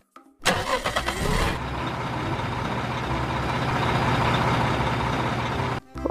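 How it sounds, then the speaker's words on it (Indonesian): A cement mixer truck in a video game starts up with a short burst of engine cranking. It then settles into a steady, loud, rumbling engine drone that runs almost the whole clip before cutting off briefly at the end. "ini ada mobil molen."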